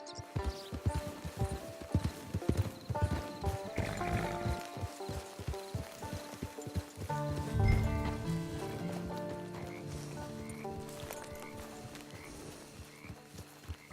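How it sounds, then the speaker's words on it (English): A horse's hooves clip-clop steadily in the Red Dead Redemption 2 video game, close and rhythmic, joined by a brief whinny and a low rumble mid-way, with faint music-like tones behind. "It's your horse."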